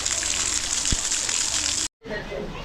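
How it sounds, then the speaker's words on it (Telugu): Water gushes steadily as it is poured over stone lingas at a temple, a close, continuous splashing that cuts off abruptly near the end and then resumes more faintly. "లింగాల పైన అయితే వాటర్ అయితే పోయడం అయితే జరుగుతుంది."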